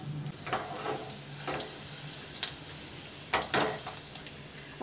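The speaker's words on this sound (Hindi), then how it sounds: "घी गर्म हो चुका है, हम उसे लहसुन डाल देंगे।" Garlic drops into hot ghee for a tadka, giving a soft, steady sizzle broken by a few sharper spattering bursts and light clinks of a pan, fairly quiet and without talk.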